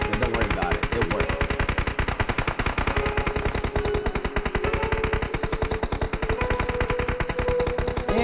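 A long unbroken burst of rapid machine gun fire in a video game, with dense, evenly spaced shots hammering on for several seconds, loud and upfront and with no talk over it.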